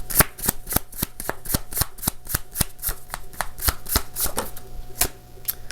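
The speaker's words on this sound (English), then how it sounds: "Gemini, I'll be pulling from the Intuit Tarot deck." Intuit Tarot deck cards are riffle-shuffled and bridged in quick, regular bursts, crisp and close, about a dozen snaps before a brief pause and a final riffle.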